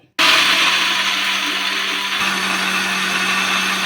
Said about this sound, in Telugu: వేసుకొని మెత్తగా మిక్సీ అయితే పట్టుకోవాలి